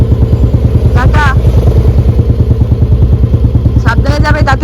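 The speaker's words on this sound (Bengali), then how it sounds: "এই বাইকের যা শব্দ, কানে যাবে না কথা" A motorbike engine idles close by with a steady, loud chugging throb, while bursts of speech come in over it twice.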